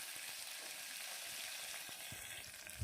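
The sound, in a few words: small onions frying in oil in a cooker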